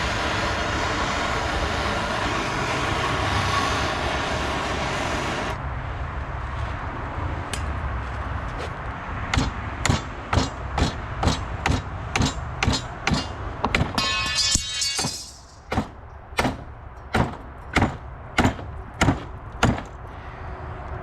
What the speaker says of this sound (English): I can hammer it down once it's in there.